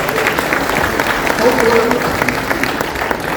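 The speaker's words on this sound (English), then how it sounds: "A big clap for both." A conference audience at a tourism industry event in Puri applauds, producing a dense, steady wash of clapping that continues throughout with a faint voice mixed in.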